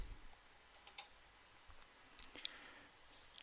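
Sharp, faint clicks of a computer mouse selecting points in MathGraph32 geometry software, a few isolated taps spaced irregularly over quiet room tone.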